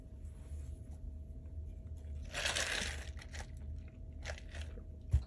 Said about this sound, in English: I'm also eating a sandwich